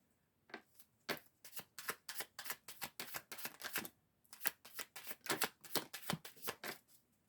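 A deck of cards is shuffled up close in quick bursts, with crisp riffling snaps and a short pause midway. The sound is fairly quiet.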